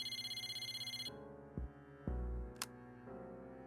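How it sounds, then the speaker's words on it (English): Mitsuru's cell phone ringing in Persona 3 Portable, a rapid pulsing electronic ring tone that stops after about a second, followed by quiet synth music with a few soft taps. "Mitsuru's cell phone ring"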